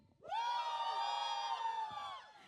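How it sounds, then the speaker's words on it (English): Wedding reception guests on one side give a single sustained, high-pitched cheer and scream lasting about two seconds before fading. "Abhishek side, make some noise."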